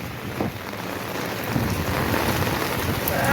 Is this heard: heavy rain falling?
yes